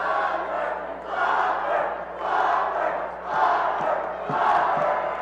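Basketball crowd at a boys high school game roaring and chanting during free throws, rhythmic swelling waves of voices in a gym, loud and reverberant, with a few sharp thuds near the end.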